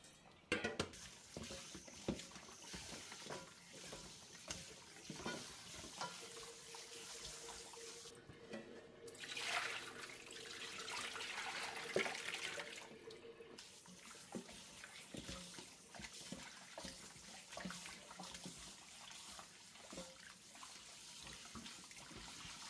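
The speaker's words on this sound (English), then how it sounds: "Rinse with water for about 3 times." Oxtail pieces rinsed under a running tap, water pouring and splashing steadily in a sink with a louder, fuller gush partway through.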